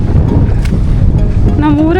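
A boat passes on the sea off Starfish Beach on Phu Quoc, its engine churning steadily under heavy wind buffeting, loud and close, with a rising tonal sweep near the end.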